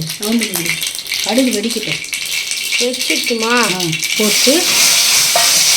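Mustard seeds sizzle and crackle in hot oil while cooking, a steady hissing fry that grows louder toward the end, with someone talking over it.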